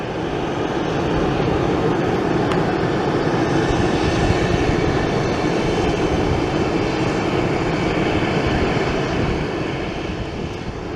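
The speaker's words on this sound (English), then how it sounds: "Southwest now taking the runway." A Southwest Airlines airliner taxis onto the runway, its jet engines giving a steady, loud broadband roar that holds even throughout and eases slightly near the end, with no voices.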